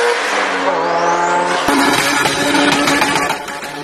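A turbocharged Honda VTEC engine revs hard, its pitch climbing steeply before a sharp shift, then roaring on at high rpm, loud and close.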